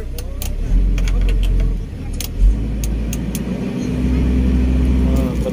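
Engine of an XCMG XE135B excavator with an auto-idle fault runs loud and close, a low rumbling drone with rising and falling throttle surges, plus a few sharp clicks and knocks.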